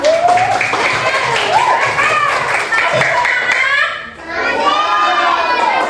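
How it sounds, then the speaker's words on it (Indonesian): Schoolchildren in a social studies classroom clap their hands amid loud, excited voices and shouting, with brisk clapping mixed under the children's chatter, which dips briefly before rising again. "oke, tepuk tangan dulu dong"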